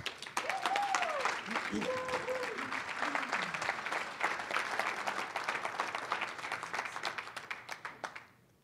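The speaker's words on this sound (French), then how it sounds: "Une bonne main d'applaudissements." Steady audience applause at a public discussion on homelessness in Sherbrooke, Québec, a dense patter of many hands running throughout with brief voices early on, tapering at the end.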